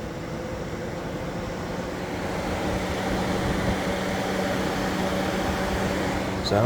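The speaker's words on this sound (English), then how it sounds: "the electric fan switch has now come on" Electric radiator cooling fan of a 1998 Jeep Grand Cherokee 5.9 Limited running in a garage, a steady broadband whooshing drone that builds slightly in strength and stays constant throughout.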